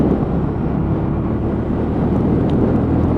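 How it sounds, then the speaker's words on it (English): A Lexmoto Tempest E5 motorcycle with a stainless exhaust can runs under throttle on a damp back road, giving a steady, loud, throaty engine drone mixed with wind rush and no pauses. "You can just hear how throaty that stainless can is on this bike"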